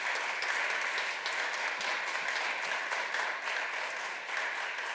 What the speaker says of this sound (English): So how about a round of applause for our excellent panelists.